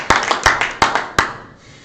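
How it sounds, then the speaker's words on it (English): A few sharp, separate claps at a Mafia World Cup finals game table, about five spaced hand strikes ringing briefly before fading into quiet room tone. "Applause for everyone."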